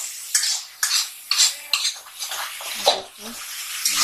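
A spoon repeatedly scrapes and clinks against a bowl while Maggi masala is stirred into a bread dhokla mixture, in short irregular strokes at close range, with faint talk in the background.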